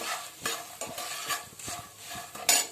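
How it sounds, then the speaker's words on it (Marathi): Green chillies roast in a pan for Kolhapuri-style chilli thecha. A soft crackling sizzle runs under repeated stirring scrapes and taps of a spoon against the pan, ending in a sharper clatter. "ह्या मिरच्यात भाजतोय"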